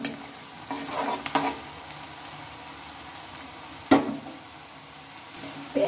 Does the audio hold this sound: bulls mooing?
no